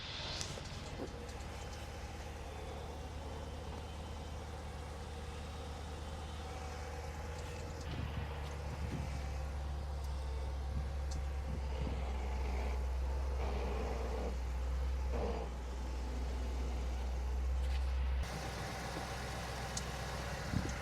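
Engine of a 2009 Dodge Challenger running, a steady low idle rumble that swells and grows fuller through the middle stretch before settling back, heard alone with no talk.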